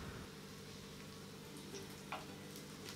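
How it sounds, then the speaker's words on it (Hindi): Bread slices shallow frying in a pan, a steady soft sizzle and crackle of oil running evenly throughout, with a small tick of the pan near the end and no talking. "इसे एक साइड से पहले अच्छी तरह से हल्का सा गोल्डन ब्राउन कलर आने तक सेलो फ्राई करेंगे"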